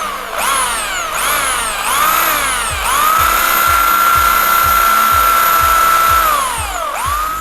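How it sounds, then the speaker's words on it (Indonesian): A power drill whirs loudly while drilling a Yamaha Xmax scooter part, with several short bursts winding up and down, then one long steady high-pitched run that spins down at the end. "Nanti kita akan melakukan pengeboran."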